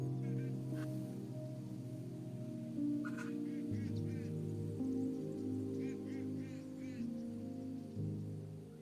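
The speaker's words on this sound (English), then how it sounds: "the beautiful birdsong that is constantly in play when I'm working" Birds calling outdoors in spotted gum bushland during autumn, short repeated honking, chirping notes scattered over a steady low hum, moderately distant and fairly faint.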